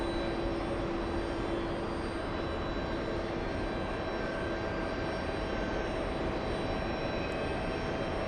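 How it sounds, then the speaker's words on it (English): A Boeing 767 airliner taxis to the gate, its engines giving a steady, broad jet roar that holds unbroken throughout. The sound comes from a moderate distance and is heard alone, with no voices. "767 taxiing to the gate. This one is the one flying in from Copenhagen."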